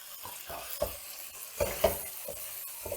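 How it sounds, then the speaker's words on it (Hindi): Mutton liver fries in a pan as green chilies go in, a continuous sizzle broken by repeated clinks and scrapes of a utensil stirring against the metal, close and moderately loud. "अब इसके अंदर सब्ज़ मिर्चें डालते हैं।"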